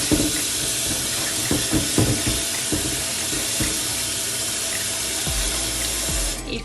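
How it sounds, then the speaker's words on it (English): Cold tap water runs steadily into a sink while a red snapper is rinsed with vinegar, with small splashes and clatter over the continuous flow, close and fairly loud. "let me finish wash this fish with some vinegar. And cold water."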